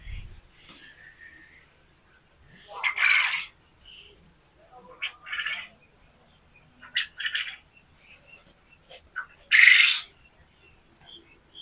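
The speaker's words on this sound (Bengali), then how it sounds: "তো আমরা শুনতে পাচ্ছি এদের কিচিরমিচির ডাক শুনতে পাচ্ছি।" Quails on an egg farm housing about 1,200 birds give short, scattered chirps and calls, fairly faint with quiet gaps between them.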